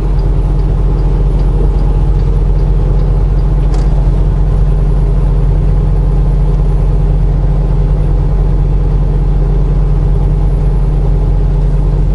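A truck engine runs steadily in a Mojave desert setting, a loud, continuous low rumble that holds an even idle throughout with no talking.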